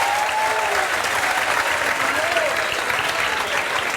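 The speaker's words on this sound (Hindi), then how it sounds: "ज़ोरदार ताली बजाओ।" Steady, dense applause from a large audience at a Haryana gathering welcoming Mahant Shukrai Nath Maharaj, loud and continuous throughout, with a raised voice briefly cutting in over the clapping.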